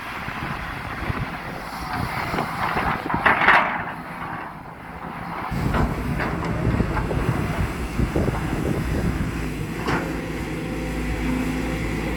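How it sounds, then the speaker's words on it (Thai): Strong wind buffets the microphone in rumbling gusts before rain, loud and uneven, with a brief lull partway through. "อากาศลมมาแล้วฝนจะตกแล้วพี่น้อง"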